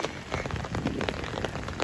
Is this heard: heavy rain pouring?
yes